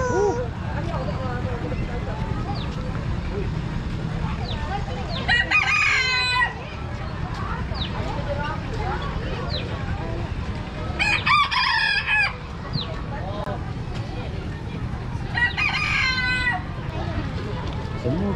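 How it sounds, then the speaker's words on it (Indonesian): Chickens cluck and chatter constantly while a rooster crows loudly three times, with people talking in the background, on a farm at UPM, Serdang. "Wah, ayam gemuk oh."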